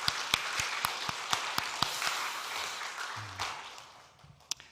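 Church congregation clapping during a Sunday morning service in a Korean church, a loose spread of hand claps with a few sharp, louder claps standing out, gradually thinning and fading toward the end.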